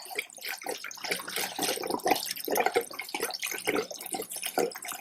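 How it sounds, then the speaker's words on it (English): Cloudy, yellowish old gasoline is poured steadily through a Mr Funnel fuel filter funnel, giving a continuous close-up splashing, gurgling trickle of liquid throughout. "Yellow, cloudy, and it's filtering as fast as I can pour."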